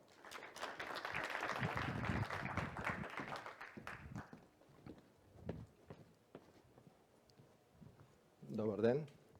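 An audience at a talk applauds speaker Ventsislav Petrov, a burst of clapping that fades over several seconds, followed by scattered footsteps and a brief voice.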